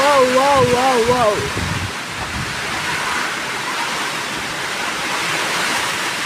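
Strong wind roars through heavy rain outdoors during a power outage, a loud continuous rushing wash that takes over after a person talks excitedly at the start.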